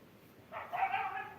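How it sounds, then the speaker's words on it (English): A pet dog barks indoors at dogs heard outside, a short burst of one or two muffled yelps rising out of quiet room tone, fairly close but not loud. "we're gonna hear a little bit of barking"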